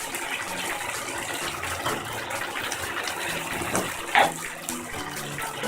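Cornflour mixed with water pours and splashes steadily into a pan of chicken chili, a continuous gushing wash with a brief clink partway through.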